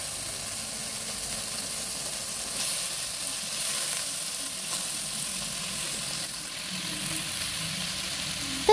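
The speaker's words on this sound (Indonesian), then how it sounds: "Sekarang kita bakal masukin sayuran yang udah kita iris-iris tadi, yaitu sawi dan juga wortel." Sliced mustard greens and carrots sizzle steadily in a hot pan while being stir-fried for corn vermicelli, a continuous close hiss with faint stirring scrapes and no talking.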